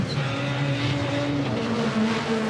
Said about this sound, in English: Fantastic sound from those cars, I just love it.